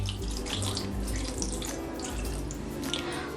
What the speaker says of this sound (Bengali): আমি এতে একটু ঠান্ডা জল ঢেলে দিচ্ছি